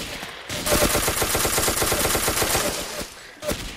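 Rapid automatic gunfire in the blocky multiplayer shooter Ace of Spades rattles off in a sustained close burst lasting several seconds, then a short single shot follows after a brief pause.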